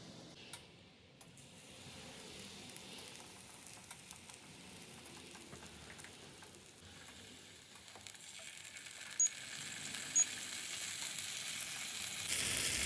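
A spinach and mushroom quesadilla sizzles on a griddle brushed with olive oil, a faint, steady frying hiss with a few small ticks and pops, growing slightly louder toward the end.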